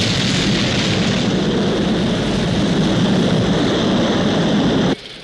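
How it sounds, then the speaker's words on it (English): A rocket lifting off during a launch produces a loud, sustained broadband roar that holds steady for about five seconds, then drops off abruptly near the end, with no talk over it. "We have liftoff."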